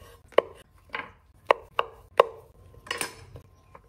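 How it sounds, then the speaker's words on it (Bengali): Knife cutting button mushrooms on a board, a handful of separate crisp chops spaced irregularly with short pauses between them, close and fairly clear with no talking. "সো আমি এটাও কিছু কেটে নিচ্ছি।"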